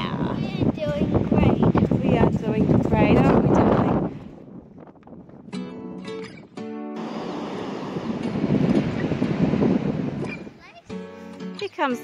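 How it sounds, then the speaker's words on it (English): Wind gusting across Ninety Mile Beach, buffeting the microphone in loud rough rushes while people talk over it, easing briefly midway before rising again. "And it's windy."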